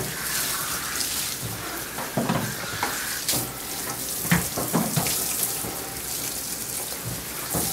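Tap water runs steadily and splashes during a dog bath, a close, continuous hiss with occasional louder splashes and thuds as the flow hits fur and the tub.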